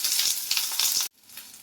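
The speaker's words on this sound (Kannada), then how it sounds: "ಎಣ್ಣೆ ಕಾದ್ಮೇಲೆ ಈರುಳ್ಳಿ, ಚೆನ್ನಾಗಿ ಫ್ರೈ ಆಗಬೇಕು" Onions frying in hot oil make a bright, close sizzle with small crackling pulses, then cut off abruptly into a much quieter, softer hiss.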